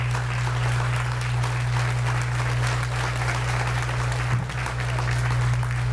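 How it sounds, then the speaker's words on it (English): Sustained applause from an audience, a dense wash of clapping with a low steady hum underneath, continuing without break. "Let's give him another round of applause."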